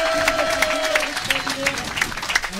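An audience at the 2019 pétanque final in Gréoux-les-Bains claps steadily in a dense patter of applause, while an amplified announcer's voice talks over it.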